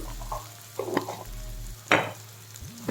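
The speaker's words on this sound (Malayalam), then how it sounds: "ഉള്ളി ഒന്ന് നല്ലോണം ഒന്ന് പൊരിയണം" Onions frying in a pan for a Chinese potato (koorkka) stir fry give a soft, steady sizzle, with a few spoon-stirring scrapes and clatters over it. The whole sound is quiet and close.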